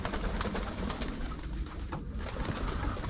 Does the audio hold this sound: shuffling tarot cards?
no